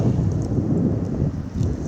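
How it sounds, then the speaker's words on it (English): Strong wind buffets the microphone beside the Potomac River on a cold early-March day, a continuous loud low rumble with no pauses or voices. "you can tell how windy it is out on the river today"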